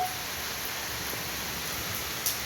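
Heavy rain pours down steadily around a home in Sivaganga during a flood and thunderstorm, a dense, even hiss with no distinct thunderclap and no voices.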